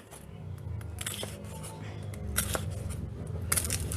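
Crisp crackly crunching and snapping close up as crispy pork crackling is broken apart by hand, with a couple of sharper cracks and faint background noise.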